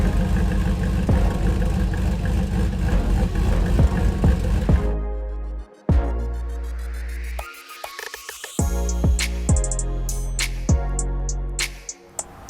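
A modified 2009 Chevrolet Silverado 1500 with a 6.2-liter V8, performance cam, and aftermarket intake runs on a dyno, a steady idle giving way to a sharp rev, a pause, then repeated throttle blips and rising pulls.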